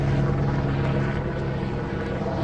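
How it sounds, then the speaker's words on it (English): Helicopter passing overhead in the hills of Southern California, a loud steady rotor and engine drone with a low throbbing hum. "There's a helicopter going overhead."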